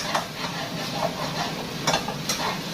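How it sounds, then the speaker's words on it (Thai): Pad see ew, flat noodles with soy sauce, being stir-fried in a pan, a steady sizzle with scraping strokes of a spatula recurring every half second or so, close and fairly loud, no talking. "อ้าวผัดเข้าไปผัดให้มันเข้ากัน"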